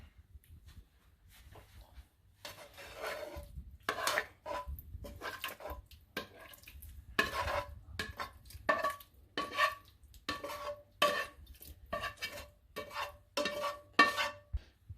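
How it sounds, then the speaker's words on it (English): Cooked meat being moved into a crock pot with a utensil: a run of clinking, scraping taps and clatters that grows busier and louder, with no talk. "Let's put in the crock pot."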